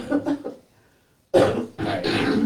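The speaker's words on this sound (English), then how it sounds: "Gotta clear my throat." A voice gives a couple of rough throat-clearing bursts, followed after a short pause by louder, harsher clearing sounds close to the mic.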